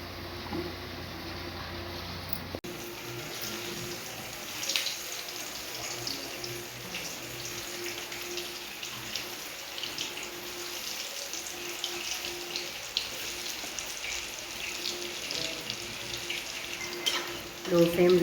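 Coconut sweets deep frying in oil in a pan over a low flame, giving a steady, continuous bubbling sizzle at moderate level throughout with a slight bump near the end.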